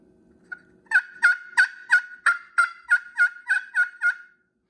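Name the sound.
turkey yelps made on a friction call with a striker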